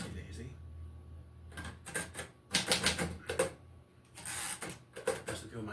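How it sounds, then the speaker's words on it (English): Manual typewriter typing close by in bursts of sharp key clacks with irregular rhythm, mechanical thumps in between, and a voice talking at points. "that's the reason why you shouldn't use a typewriter, because of key jams"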